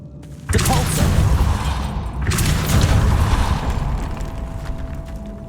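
Depulso spell cast in Hogwarts Legacy, a loud booming burst followed by a second surging blast, sustained rumbling debris and magical whoosh throughout.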